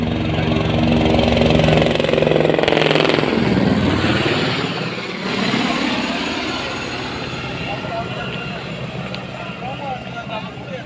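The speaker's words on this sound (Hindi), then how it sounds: "जो यहाँ पर हेलीकॉप्टर उतरते हैं सांझी छत के पास में ही" Helicopter flying in to land at the Sanjhi Chhat helipad near Vaishno Devi, a loud rotor and engine roar that sweeps past and then eases into a steadier drone, with people talking nearby.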